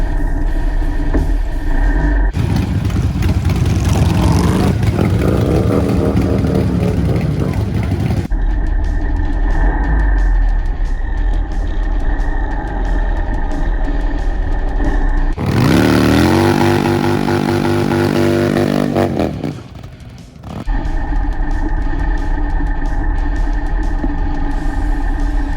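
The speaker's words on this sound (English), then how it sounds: "Next up, a fast Harley Sportster." A fast Harley Sportster drag bike at the strip, loud engine roaring and revving in repeated surges with gear shifts. There is a short dip before the roar resumes.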